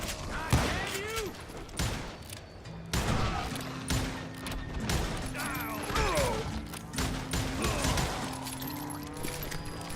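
Repeated gunshots and volleys in a cowboy-themed shooting video game, loud and punchy with clattering mechanical sounds and crashes, while voices speak between and over the shots.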